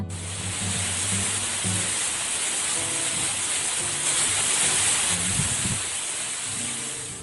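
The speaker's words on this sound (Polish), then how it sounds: "Tak szumi miskant na wietrze." Tall giant miscanthus grass, at least 2.5 metres high in a garden, rustles steadily in the wind as a dense, continuous hiss with no voices.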